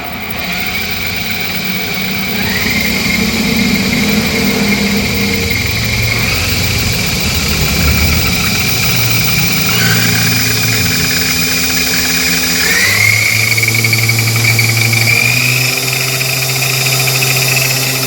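Motor of an electric bike running on a test run after battery service, a loud, continuous drone and whine that shifts pitch as speed changes, close by with no talk.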